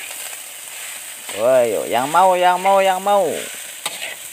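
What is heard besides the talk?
frying and stirring Javanese nasi goreng mawut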